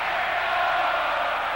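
A home crowd at a North Stars hockey arena during a 1981 Stanley Cup Final game, a steady, loud wash of cheering and roaring from many voices, sustained without a break.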